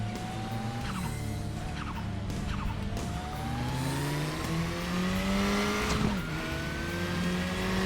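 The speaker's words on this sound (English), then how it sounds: "You can hear the turbo." A KTM X-Bow racing in the Raceroom sim game, its turbocharged engine rising in pitch through the gears with a whining turbo note and brief tyre squeal, loud and continuous with no talk.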